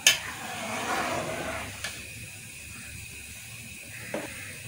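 Soaked rice tinted with food colouring for sweet zarda boils in a pot of water, giving a steady steamy hiss with soft bubbling that stays fairly even and close throughout.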